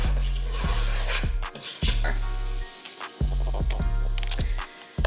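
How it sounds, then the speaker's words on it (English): Chili ingredients are stirred together in a big pot, close up, with repeated wet scraping and squishing strokes in an uneven rhythm over a soft sizzle. "So I'm just stirring everything together."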